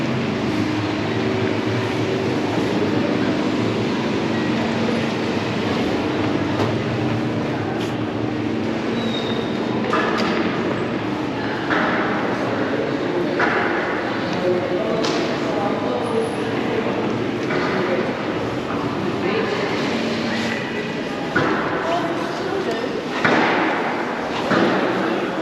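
A New York subway train rides along with a continuous loud rumble and rattle throughout, punctuated by occasional thumps and squeals, with faint background voices.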